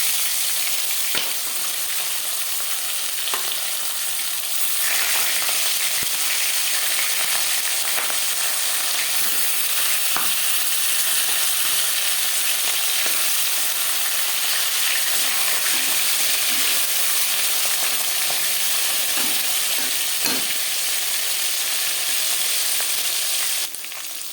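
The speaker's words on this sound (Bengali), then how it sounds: "চার চামচ রিফাইন্ড অয়েল গরম করে দিয়েছি এবার দিয়ে দেবো ম্যারিনেট করে রাখা মাছের মাথা" Marinated bhangar fish heads fry in hot refined oil, a loud, dense, continuous sizzle with occasional small pops and taps, steady from start to finish without speech.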